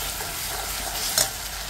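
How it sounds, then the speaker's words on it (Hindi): Chopped tomatoes frying in hot oil with ginger-garlic paste and cumin for chole, a steady close sizzle with a brief stir or clatter partway through. "अब इसमें हम डाल देंगे ये चॉप किए हुए टमाटर।"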